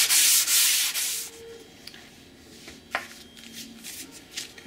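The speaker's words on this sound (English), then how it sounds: "Now you can see how fast that filler sands." Sanding filler on a large foam model airplane wing, a loud, close abrasive rasp at first that then fades to quieter, intermittent rubbing strokes.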